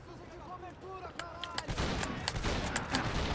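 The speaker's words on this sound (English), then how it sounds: "Okay, let's probably switch to the shotgun." Shotgun blasts in a first-person shooter video game, several sharp booming shots firing in the latter half over a dense, noisy game soundscape, with quieter tonal game sounds and chirps before the first shot.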